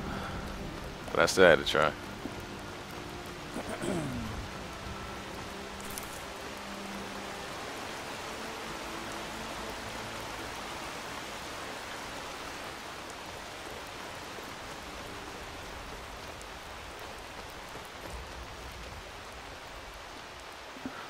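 Steady rain falls in Skyrim as a soft, even hiss, with a few brief louder knocks near the start and someone speaking briefly over it before the patter carries on alone.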